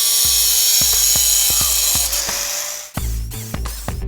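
A power saw cuts timber studs for a new porch, with a repeated series of short rasping bites at an even pace, then a denser burst of cuts near the end, loud and close.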